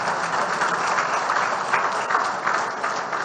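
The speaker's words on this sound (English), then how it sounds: "I think a bigger round of applause will convince her." An audience applauds during a speech at the opening of a new campus at Genome Valley, Hyderabad, a dense continuous wash of clapping heard at moderate distance.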